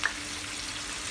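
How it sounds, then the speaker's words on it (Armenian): Meat and peppers fry together in a pan, giving a steady, close sizzle with a soft crackling hiss that holds level throughout, with no talk over it. "երկուսը միասին դնում եմ թավայի մեջ, հետո պղպեղները հանելու եմ և թողնելու եմ միսը, որպեսզի ավելի շատ տապակվի"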